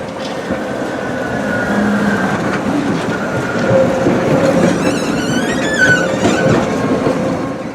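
A colourful city tram rumbles steadily past on a street in Szczecin, with rail clatter, a brief wheel squeal and a rising screech midway, loud and continuous throughout.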